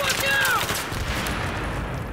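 Gunfire in the Battlefield 3 video game, a quick burst of rapid shots at the start that gives way to a lingering noisy rumble.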